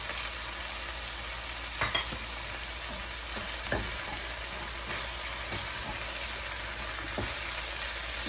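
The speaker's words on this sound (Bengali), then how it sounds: "এই পর্যায়ে আমি বাকি সবজিগুলি দিয়ে কষিয়ে নেব" Cabbage, tomato and capsicum sauté dry without water in a pan for a mung dal and winter-vegetable labra, with a steady, close sizzle and a few louder stirring scrapes, no voices.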